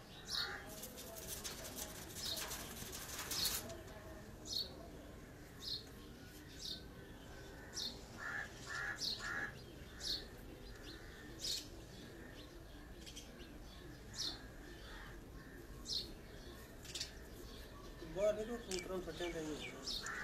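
Birds chirp in short, repeated calls from a rooftop during a local pigeon tournament, with a burst of fluttering noise at the start and soft calls scattered across a quiet background.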